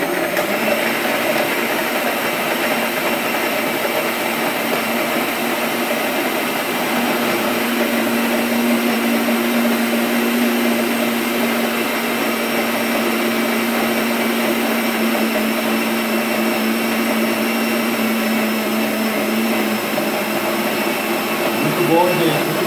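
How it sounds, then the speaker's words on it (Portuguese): A blender runs steadily and loudly, whirring through vegan macadamia condensed milk with added coconut water, its motor tone holding constant with a slight pitch shift partway through. "Vou botar um pouquinho da água desse coco e vamos bater aqui então."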